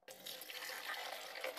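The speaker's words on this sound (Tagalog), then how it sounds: "Lalagyan ko siya ng tubig." Steady stream of water poured into a coffee brewer while making brewed coffee, a continuous soft splashing wash close by, faint and unbroken for the whole stretch.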